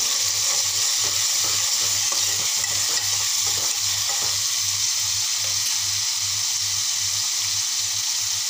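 Finely chopped tomato cooks in a pan for spicy street-style egg bhurji, a steady sizzle with rhythmic stirring scrapes repeating evenly throughout, no voices.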